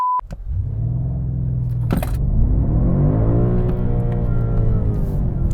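A BMW M5 Competition launches from a standstill: a brief click, then a low idling rumble that swells into a loud, rising engine roar as the car accelerates hard, close and without talk.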